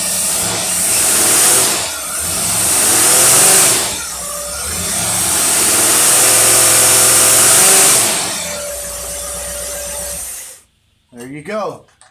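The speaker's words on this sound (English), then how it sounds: "Now we're going to turn the dyno on." An engine fitted with a Carter WCFB carburetor runs on a dyno, loud and near, its note swelling and falling through repeated revs before cutting out, with a voice speaking briefly at the end.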